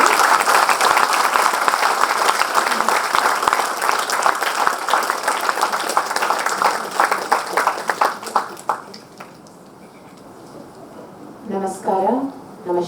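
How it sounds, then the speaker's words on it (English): A book event audience in Bengaluru applauds, loud sustained clapping that thins into scattered claps and fades out, followed by a short stretch of a voice speaking near the end. "I think we deserve a better round of applause, ladies and gentlemen."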